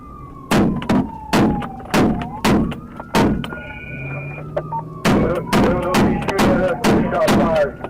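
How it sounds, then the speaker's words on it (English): Gunshots during a police pursuit come as a string of sharp, loud cracks in uneven bursts, with a siren-like wail sliding underneath and a radio voice heard between them. "Shot fired."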